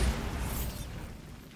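A Bombarda spell explodes in the Hogwarts Legacy video game, a brief blast with a low thump at the start that trails off into a fading crackling rush.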